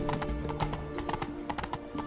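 Horse hooves clip-clop steadily in The Witcher 3, a close, brisk run of hoofbeats with a brief whinny, heard alone with no talk over them.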